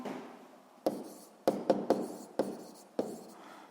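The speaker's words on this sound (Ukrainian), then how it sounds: "Пишемо." Pen or chalk taps and scratches in a few short strokes, close and quiet, as someone writes out a seventh-grade physics exercise on forces.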